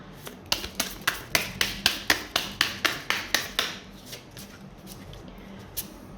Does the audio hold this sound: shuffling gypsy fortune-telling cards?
yes